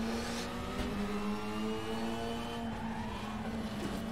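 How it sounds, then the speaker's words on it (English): A locked-up tyre skidding under hard braking on a race car in the Raceroom racing video game, a loud continuous squeal and scrub over the droning engine, sustained for several seconds. "Massive lockup, the mother of all brake lockups."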